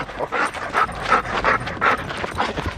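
A dog pants rapidly and rhythmically after playtime, close and fairly loud, with a few soft whimpers mixed into the breathing.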